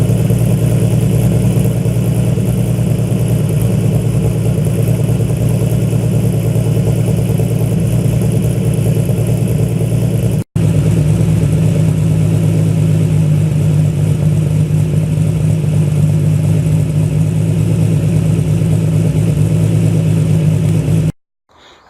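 A Nissan 350Z engine with a Stillen grounding kit idles steadily, a loud, continuous low rumble that holds even for about twenty seconds, with one brief dropout partway through and no talking.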